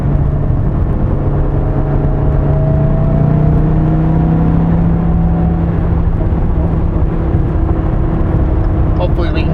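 A 2015 Dodge Viper T/A 2.0 with a naturally aspirated engine pulls from low revs, its steady drone rising slightly in pitch while the cabin hum stays constant beneath the occupants' conversation.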